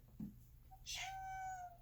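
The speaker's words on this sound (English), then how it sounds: "Sorry if you can hear my cat begging." A pet cat meows in a drawn-out, begging cry, with a short low sound just before it; moderately faint against a quiet room background.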